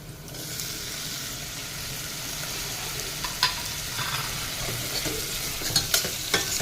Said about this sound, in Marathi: आता त्याच्यामध्ये आपण चिरलेला टोमॅटो घालूया